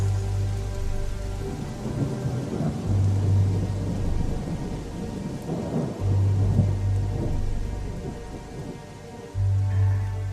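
Heavy rain pours steadily while deep rolls of thunder rumble through it several times, loud and close, with no voices.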